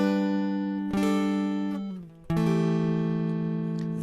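Two strummed dulcimer chords ring out bright and sustained, the first fading before the second is struck, with no voices.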